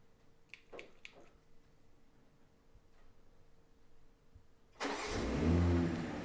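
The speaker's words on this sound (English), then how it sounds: "now let's go ahead and remote start it again" A BMW 740i starts remotely from its key fob: a few faint clicks and ticks come first, then the engine cranks and catches with a sudden, loud surge before settling into a steady idle nearby.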